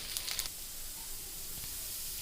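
Semiya vermicelli frying in a pan for payasam, a faint, steady sizzle and hiss with a few small crackles early on, alone and without talk.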